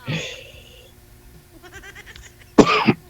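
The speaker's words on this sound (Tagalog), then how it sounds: "Hala, inuubo ka na," A man coughs indoors in a few loud, harsh bursts near the end, after a strained rasping breath and some softer vocal sounds.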